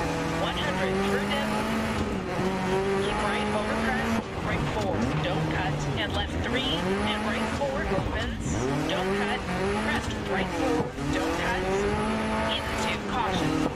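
A Group B rally car from the DiRT game roars through stages, its engine pitch sweeping up and down through gear changes, with tires squealing and skidding while a co-driver's voice calls notes over the continuous loud drive.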